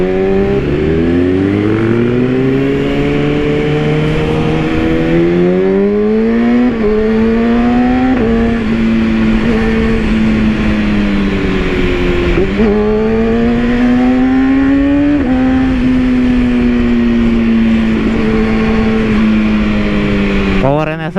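Kawasaki ZX636 sport motorcycle fitted with a Nassert Beet Evo 2 aftermarket exhaust, its engine loud and close, rising and falling through repeated revs and gear changes in continuous riding.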